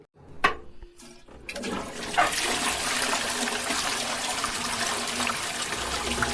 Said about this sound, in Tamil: கக்கூசு கழுவுற தண்ணி கூட மெதுவா தான் சுழலுது